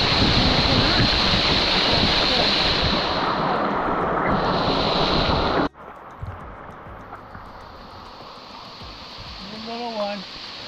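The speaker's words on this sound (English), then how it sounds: "Water falling on me. It's a waterfall." Roaring rush of a waterfall pouring onto rocks, very close and loud with heavy wind buffeting on the microphone, then abruptly quieter and more distant, with a brief voice near the end.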